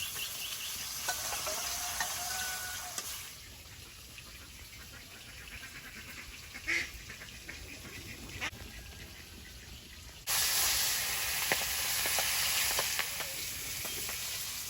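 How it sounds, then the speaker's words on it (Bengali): Fish frying in oil in a home kitchen makes a faint, steady sizzle with hissing that swells loudly near the start and again for the last few seconds, with a few light clinks between. "বাকি মাছগুলো ভাজা হতে হচ্ছে"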